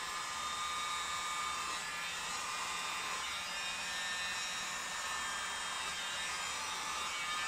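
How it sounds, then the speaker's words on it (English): An electric blower pushes air across a freshly poured Dutch-pour paint coaster, a continuous loud, hissing rush of air with an even whine that holds steady from start to finish. "so let's get the blower going"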